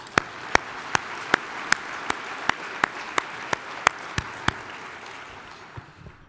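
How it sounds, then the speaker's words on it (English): Luncheon crowd at an engineering conference applauds the City of Edmonton: sharp, evenly spaced claps from one nearby pair of hands ring out over a softer background of clapping, fading after about five seconds. "let's give the City of Edmonton a round of applause"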